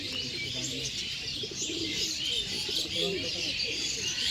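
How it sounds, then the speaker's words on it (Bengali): A male Madras pigeon coos amid a steady bed of bright chirping from other birds, the soft low calls repeating throughout at moderate distance. "দেখুন, এই যে ছিল নর পায়রা।"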